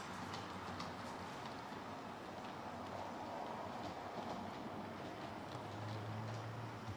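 An HO scale model passenger train reverses over layout turnouts, making a faint, steady rolling rumble with soft clicking from the track and a low hum near the end, with no talking.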